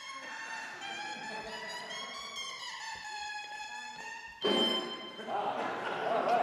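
A double reed blown on its own, without the oboe body, gives a thin, buzzy, reedy tone with rising and falling pitch, then shifts into a brighter, rougher squawk.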